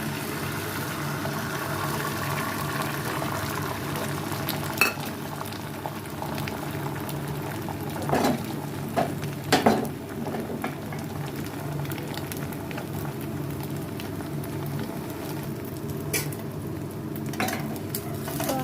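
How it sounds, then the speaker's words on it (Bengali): Egg omelette batter fries in hot oil in a pan, giving a steady close bubbling sizzle throughout with a few brief clatters and pops over it. "এখানে আমার তেলটা গরম হয়ে গেছে তো এখন আমি অমলেট বানানোর জন্য দিয়ে দিচ্ছি"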